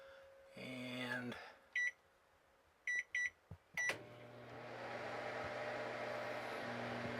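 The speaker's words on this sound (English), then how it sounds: "Let's try out the microwave." Several short electronic beeps sound in a scattered sequence, then a microwave oven starts up with a steady low hum that keeps running.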